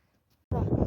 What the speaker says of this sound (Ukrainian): Вітер е, сильний, бачите, лохина, як мотиляє лохиною.